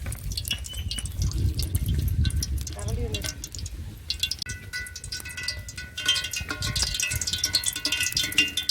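Ghee and oil are poured into a heated pot while prawn biryani is being made. Liquid trickles and drips close by, partly under a speaking voice, with clattering of kitchen utensils.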